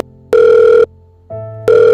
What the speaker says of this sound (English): Suddenly, Asha's phone rang.